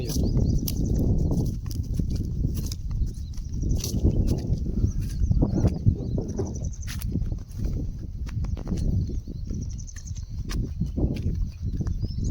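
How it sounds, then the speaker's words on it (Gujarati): Bullocks walking to the edge of a farm field beside a millet crop, their hooves thudding in a steady, close, continuous plodding rhythm, with faint bird chirps above. "ત્યાં સુધી બળદ પણ આમ સેડે પહોંચી આવે"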